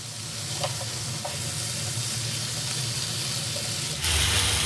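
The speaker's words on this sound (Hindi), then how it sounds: "अब इसके अंदर हम डालेंगे छोले और इसे अच्छे से मिक्स कर लेते हैं।" Chickpeas being stirred into a sizzling masala in a pan, with steady close frying hiss and scraping of the spoon throughout, a brief louder burst near the end.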